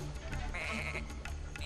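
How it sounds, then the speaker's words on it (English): Sheep in the video game Tak and the Power of Juju bleat loudly in wavering calls over busy game sound, with a person talking. "It makes sheep noises?"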